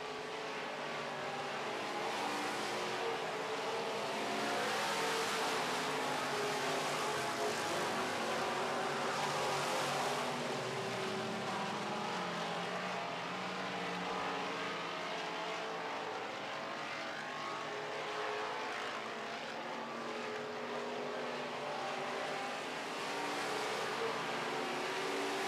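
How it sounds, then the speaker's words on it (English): Midwest modified race cars battle in a heat race, a steady loud roar of engines from the pack revving and passing continuously, with only faint traces of voice underneath. "Delane and the 27 car of Joe Tate's battling for 4th and 5th."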